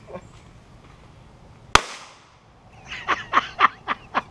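A firework set off inside a desktop PC gives one sharp, loud bang, a brief fizzling tail, then a rapid series of smaller crackling pops close by, with no clear speech over it.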